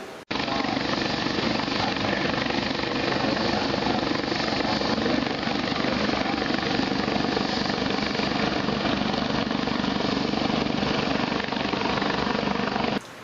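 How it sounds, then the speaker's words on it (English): Steady, loud rotor roar of helicopters in flight, a dense continuous thrum with no pauses across the whole stretch. "the roar of only a few helicopters in flight"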